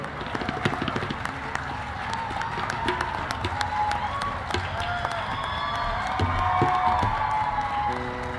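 Concert audience applauding and cheering to welcome a singer onto the stage, a dense crowd clapping throughout at moderate distance, swelling slightly toward the end.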